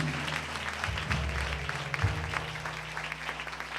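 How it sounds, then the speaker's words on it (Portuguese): A congregation at an evangelical worship service claps in a continuous, moderately loud wave, with low sustained instrumental tones humming underneath. "Você pode dar uma salva de palmas e agradecer a Deus"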